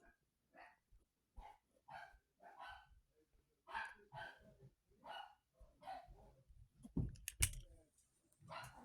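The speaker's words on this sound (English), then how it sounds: "Sorry if you can hear my dogs bark in the background." Dogs bark in short repeated bursts in the background, with puppies playing together, the barks moderately faint and separated by brief pauses, rising to a louder cluster near the end.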